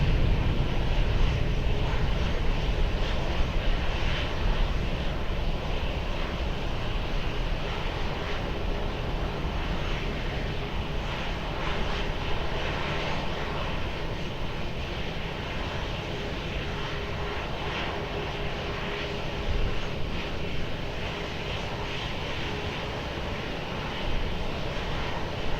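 Airliner taking off from runway 20 at Lisbon Airport, a loud, steady engine roar with broadband rumble sustained throughout, heard from a distance with no voices.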